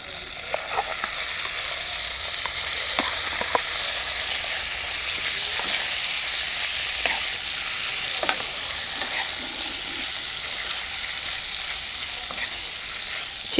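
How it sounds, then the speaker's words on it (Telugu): Chicken pieces frying in a pan with kasuri methi, a continuous close sizzle with regular stirring scrapes and faint clicks of the spatula throughout, no voices. "చికెన్ కొంచెం సేపు ఇలా కలపండి, మంచిగా కలర్ చేంజ్ అయ్యే వరకు."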